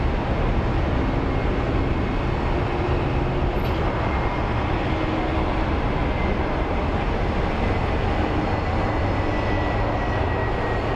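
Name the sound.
Airbus Neo airliner passing at Phoenix Sky Harbor airport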